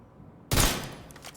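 A short, loud burst of assault rifle fire from The Division 2, the last two rounds of a magazine, hitting abruptly after near silence and trailing off in a brief ringing tail with no talking.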